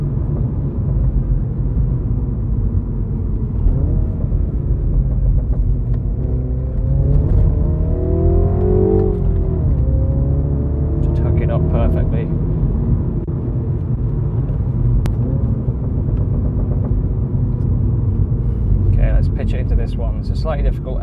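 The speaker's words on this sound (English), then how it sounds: "Full traction there, second gear in the wet." A Mini F56 JCW pulls hard in second gear along a wet B road, a steady engine rumble rising and falling in pitch as it accelerates, with someone talking over it inside the cabin.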